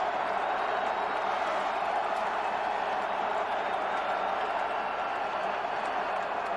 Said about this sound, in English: The crowd has come alive here at Rogers Centre in Toronto.